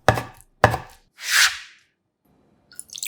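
Sour kimchi being cut into 1 cm slices with a knife on a board: two crisp chops, then a softer wet squish, a short pause, and faint movement sounds near the end, with no voices.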